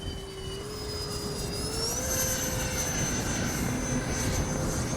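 An E-flite 80mm Habu XS RC jet's electric ducted fan runs steadily at half throttle, a loud continuous whine with high tonal lines that rises slightly in pitch partway through, with no voices over it.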